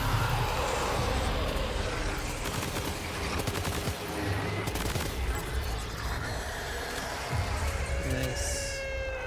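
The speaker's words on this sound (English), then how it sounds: "Some bullet action." Bullets flying in a Death Stranding 2 firefight, dense rattling bursts of gunfire mixed with game effects and a rising tone near the end, loud and continuous, with a voice now and then.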